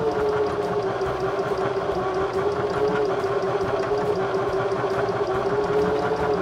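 A Baby Lock Zeal sewing machine stitches fabric at a slow, steady pace, its motor humming evenly under a fast, regular clatter of the needle, close and continuous with no talk.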